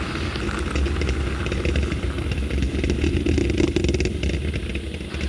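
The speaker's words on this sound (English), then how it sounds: "Engines throttling down and holding well." Space Shuttle Atlantis main engines roaring during launch ascent from Complex 39A on mission STS-43, a dense, steady broadband rumble with crackling texture that stays loud and unbroken throughout, with no voices.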